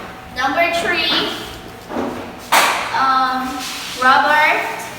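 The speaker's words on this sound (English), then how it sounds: "Give yourself a little clap." Classroom group clapping, short bursts of hands clapping together alternating with a teacher's voice, the claps landing near and fairly loud between phrases of speech.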